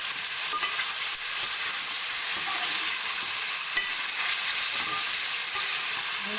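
Chicken frying in oil as its water cooks off, a constant loud sizzling hiss with repeated scraping stirs and small clicks of the utensil against the pan, no one talking.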